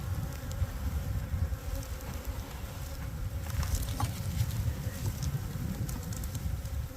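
Honey bees swarm around an open hive during a brood frame inspection, a dense continuous buzz with individual bees droning past the microphone.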